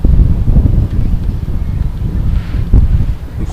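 Strong wind buffets the microphone at a lake, a loud continuous low rumble that gusts and eases throughout.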